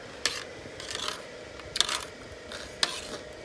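A few short, rasping scrapes, roughly four strokes at uneven intervals, close and moderately loud over a low steady background hum.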